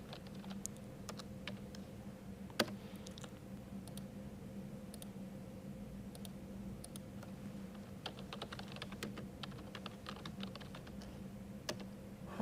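Soft, rapid keystrokes on a computer keyboard as a command is typed into a Windows terminal, a steady patter of faint close clicks over a low background hum.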